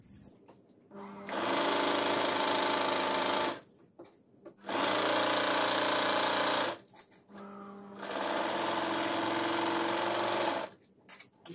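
An electric sewing machine stitches the side joints and sleeve of a blouse in three long, steady runs of loud whirring, separated by brief pauses while the fabric is repositioned.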